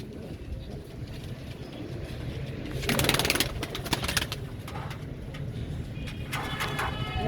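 Black Danish pigeons cooing as a flock being readied for shipment, soft bird calls over a steady low background rumble, with a denser burst of activity midway and more calls near the end.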